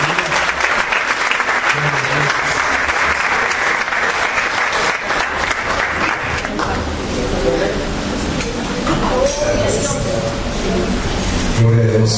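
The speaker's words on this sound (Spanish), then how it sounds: "un fuerte aplauso" Loud, continuous congregation applause inside a church, dense clapping filling the room, with music and voices emerging underneath in the second half.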